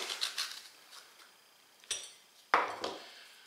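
A metal ice cream scoop scrapes seeds out of a halved acorn squash, giving a few sharp clinks and scratchy scrapes separated by short pauses, close up and fairly quiet.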